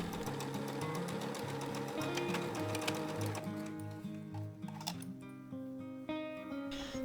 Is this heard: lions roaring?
no